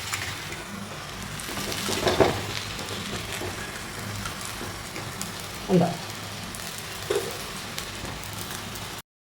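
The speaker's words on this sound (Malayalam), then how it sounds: "പാവയ്ക്ക നമുക്ക് കുറേശ്ശെ ഇട്ട് വറുത്തെടുക്കാം." Bitter gourd fries in a pan of oil with a continuous rain-like sizzle, close by, broken by a few louder scraping or clattering stirs; a voice briefly speaks near the end.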